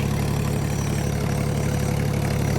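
A 5050 tractor engine idles close by with a steady, low, chugging throb that does not change, and no other sounds.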